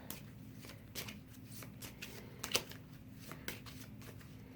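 Tarot cards shuffled by hand in a series of crisp riffling bursts and soft slaps, close and clear, with steady room hiss underneath and no talking.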